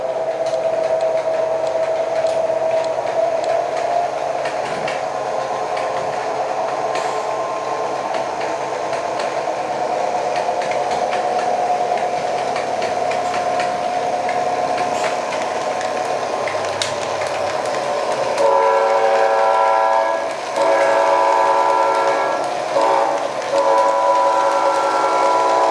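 An S gauge model train locomotive with Blunami sound control, running slowly close by with a steady motor hum and engine drone, then sounding a chiming multi-tone horn in repeated bursts toward the end.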